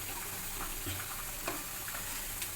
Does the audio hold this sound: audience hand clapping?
no